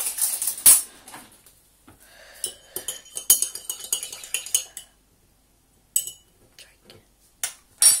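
Metal cutlery clinks and scrapes against a glass while milk and coke are stirred, bursts of sharp taps and clatters with short pauses between.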